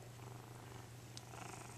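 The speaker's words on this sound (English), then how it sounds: "This is our cat, Tiger." A Bengal cat purrs steadily and softly up close, a low continuous rumble with no voices over it.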